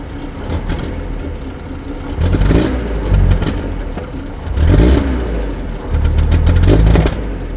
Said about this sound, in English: There's a lot of smoke. I'm misfiring.